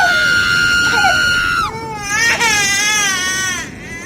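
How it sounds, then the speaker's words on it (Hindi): A woman's wailing and a child's shrill, harmonic cries echo from deep in a forest, loud and close, with rising and falling sobbing tones that break and resume over about four seconds. "तभी अचानक जंगल की गहराइयों से किसी औरत के रोने और बच्चे की चीखों की"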